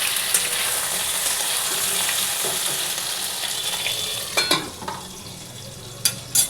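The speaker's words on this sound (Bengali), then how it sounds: "দেখুন বন্ধুরা, ঢাকা দিয়ে ভাজছি, ভালো করে ভাজাটা হয়ে যাক, লাল করে ভেজে নেব।" Pointed gourd and potatoes fry in a covered pan, giving a steady low sizzle throughout with a few sharper clinks of a utensil near the end.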